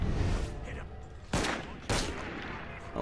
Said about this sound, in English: Oh no, they're shooting at me.